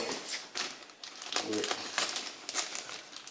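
The protective seal on a motorcycle battery's electrolyte pack is opened with crinkling, crackling plastic noises in short bursts, fairly quiet and close, while someone talks over them.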